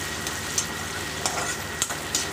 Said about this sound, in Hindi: इसको थोड़ा लाल होने तक भूनूंगी। देख सकते हैं मेरा तड़का लग गया है